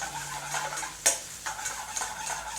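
Oil sizzling in a pan while cooking lamb tikka biryani, a steady close frying hiss with a sharp clink of a utensil partway through and light stirring scrapes.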